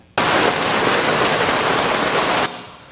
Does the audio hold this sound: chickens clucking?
no